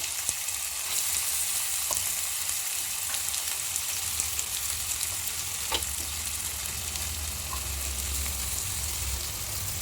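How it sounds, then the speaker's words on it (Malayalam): Onions roasting in a well-heated pan for a chicken gravy, a steady loud sizzle and crackle running unbroken, with faint stirring scrapes and no voices. "നമ്മുടെ സവാള റോസ്റ്റ് ചെയ്യാൻ അങ്ങോട്ട് ഇട്ട് കൊടുക്കാം കേട്ടോ"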